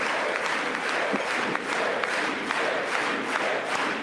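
A crowd cheering and applauding, with dense clapping and scattered shouts blending into a steady roar that sounds somewhat distant.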